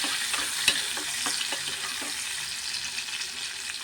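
Dried prawns fry in a hot pan, giving a steady bright sizzle with occasional soft stirring scrapes and small pops close by.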